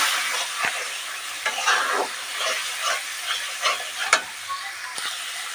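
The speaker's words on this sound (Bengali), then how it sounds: "মশলাটাকে ভালোভাবে কষে নেব" A spice masala with cumin and chili powder is sautéed in a pan, giving a steady close sizzle with repeated scraping stir strokes and a few sharper knocks of the spoon, with no talking.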